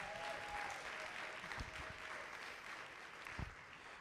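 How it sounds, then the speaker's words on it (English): An audience at a dance concert claps steadily and continuously, a dense wash of applause with a few louder individual claps near the end. "So just extra applause for those choreographers and dancers"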